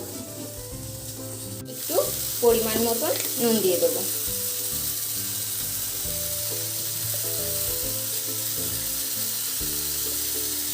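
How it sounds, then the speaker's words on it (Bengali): Fish sizzles steadily in a pan over a gas flame while being cooked for a homemade fish curry, a soft continuous crackle running beneath a voice and some faint clattering. "দিয়ে আমি ভালো করে এবার ভেজে দিই"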